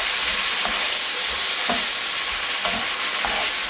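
A spoon stirs simmering empanada filling of vegetables and crushed chicken cubes, with a few scraping strokes over a steady bubbling sizzle and no talk.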